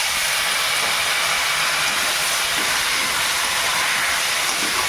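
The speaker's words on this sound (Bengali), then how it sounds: "এবারে মশলার মধ্যে একটু জল দেবো।" Water poured onto frying spices with green and ripe red chilies while cooking koi fish curry gives a loud, steady sizzling hiss that continues without a break.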